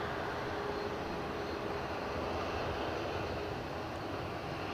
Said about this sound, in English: So we've got an Embraer 190 on the way out.